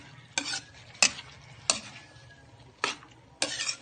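White onion and long green chili stir-fry for pork sisig, a steady low sizzle broken by five sharp scrapes of a spatula against the pan.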